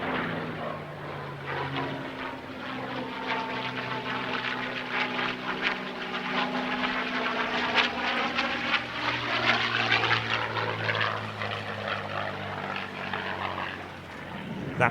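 The P-51 Mustang warbird Wee Willie 2 from Planes of Fame drones past at an airshow, its piston engine roaring loud and sustained with a sweeping, Doppler-shifting pitch that swells and then eases.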